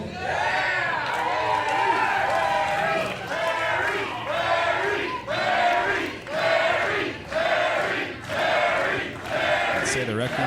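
A packed crowd at an independent wrestling show in a rec room roars and cheers in steady loud waves, pulsing with chants throughout.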